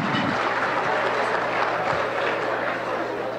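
An audience applauds Mayor Gus Morrison at an evening event. The clapping is dense and steady, a continuous wash of hands that holds at an even level for several seconds.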